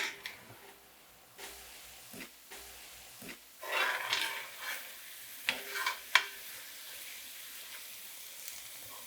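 Tofu scramble for vegan huevos a la Mexicana cooking in a pan, soft sizzling with a few stirring scrapes and clacks, fairly quiet and close.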